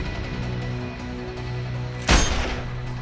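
A single loud sniper rifle shot cracks out in the video game Sniper Ghost Warrior 2, breaking a low steady background hum and ringing briefly afterward.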